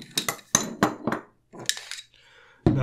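Metal parts of an HK 416 rifle's bolt carrier group clink and clack as they are handled, a series of sharp, close metallic knocks with a brief pause before a final heavier clunk.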